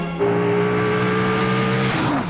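A Dodge Viper's 8.4-liter, 512-cubic-inch V10 holds a loud, steady, close-up drone with strong layered harmonics, then drops in pitch and tails off near the end.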